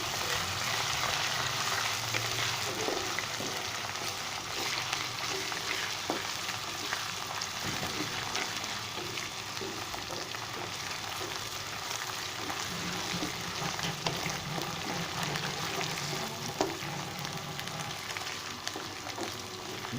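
Minced beef frying in a pan with onion and ginger-garlic paste gives a steady, close sizzle that continues evenly throughout, with faint stirring noises and no voices.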